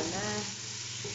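Garlic and onion sauté in hot oil with a dense, steady sizzle, close and fairly loud, continuing unbroken.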